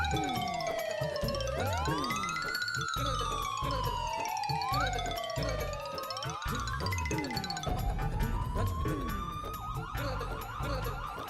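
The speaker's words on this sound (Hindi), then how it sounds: "ये सायरन तो एम्बुलेंस का है।" A wailing ambulance siren sweeps up and down continuously, loud and fairly close, with overlapping tones and a faint chime in the background.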